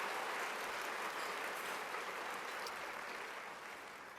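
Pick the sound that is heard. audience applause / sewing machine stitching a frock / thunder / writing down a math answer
audience applause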